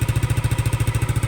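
A Yamaha Aerox fuel-injected scooter, freshly repaired after an ignition coil fault damaged its ECU, idles close by with a fast, even, thumping engine pulse, loud and alone.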